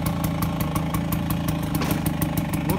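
A retro Vespa motorcycle idles as its rider shifts into first gear, a steady close mechanical engine drone with a regular pulsing clatter and no voices over it.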